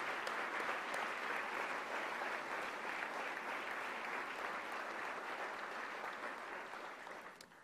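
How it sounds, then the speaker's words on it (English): A Hall of Heroes ceremony audience at the Pentagon gives a family sustained applause, dense steady clapping that holds for several seconds and then tapers off at the end. "just give them another round of applause for all you've done"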